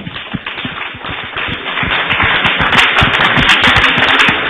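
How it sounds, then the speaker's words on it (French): Crowd applause with scattered sharp claps at a Congolese music tribute event, building steadily in density and loudness over a few seconds, with no voices on top. "ça mérite des applaudissements"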